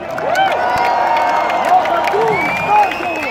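A large crowd at a concert in Tartu, Estonia in 2019 cheering, whistling and whooping loudly, with someone speaking over the roar.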